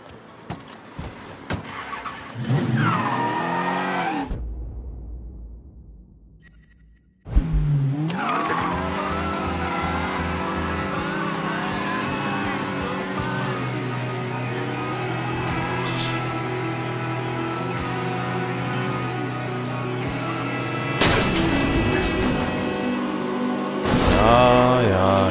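Cars in the Mafia 3 video game roar and screech through tire squeals and skids, with a brief abrupt cut to near silence before the engine noise returns and continues loud and sustained to the end.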